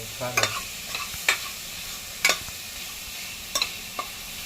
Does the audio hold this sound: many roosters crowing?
no